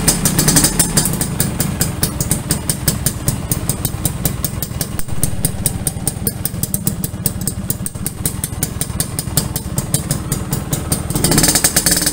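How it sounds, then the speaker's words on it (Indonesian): A restored Yamaha V80 motorcycle idles with a modified, bored-out exhaust, a fast crisp two-stroke putter that runs steadily and loud close to the microphone, with a slight rev near the end. "Knalpotnya juga sudah kita bobok teman-teman, jadi suaranya bener-bener garing, tapi garing standar gitu ya"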